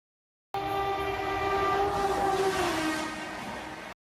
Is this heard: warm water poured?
no